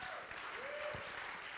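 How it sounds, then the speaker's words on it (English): A church audience applauds steadily, a dense, even wash of clapping that fills the whole moment, with a faint voice sliding underneath. "You better clap."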